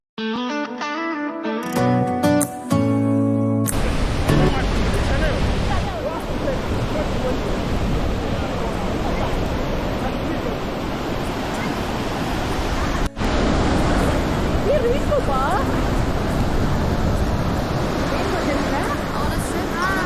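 Murchison Falls on the Nile pours down in a loud, continuous roar of crashing water that fills the whole stretch. A brief tonal, musical passage comes before it.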